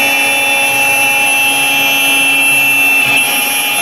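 CNC router cutting nylon 4 millimetres per pass at high feed speed, producing a loud, steady high-pitched whine with tonal spindle hum, constant and close throughout, with no speech.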